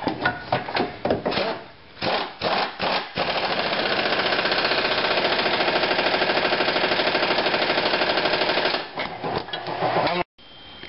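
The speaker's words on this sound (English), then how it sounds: "now I'm going to tighten the bolts." A power tool tightens control arm bolts on a Honda Civic, first in short rattling bursts, then one long continuous hammering whir, followed by a few more brief bursts.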